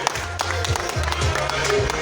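Audience applause at a French sports association event, a continuous patter of many hands with a voice talking over it.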